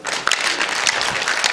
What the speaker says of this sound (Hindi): इनके लिए भी तालियां चाहूंगा।